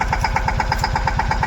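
A farm tractor engine chugs loud and close in a fast, even rhythm of repeating thumps, running steadily on a village road.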